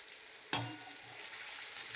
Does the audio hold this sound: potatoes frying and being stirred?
yes